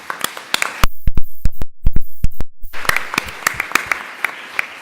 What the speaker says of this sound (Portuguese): eu queria também mais uma vez uma salva de palmas.